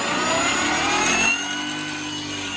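A radio-controlled Bell 412 model helicopter spins up toward idle RPM, a steady near whine with rising tones that drops slightly in level midway and then holds a constant mechanical hum.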